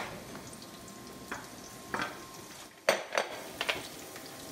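Onion and spices sautéing in oil for a sauce, with a quiet sizzle under several sharp clinks and scrapes of a utensil against the pan, close by, no talking.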